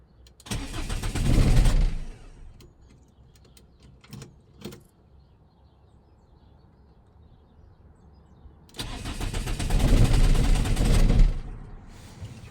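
A Renault Kangoo engine cranks and catches twice, each restart a loud burst of a couple of seconds with quieter clicks and rattles in the pause between them.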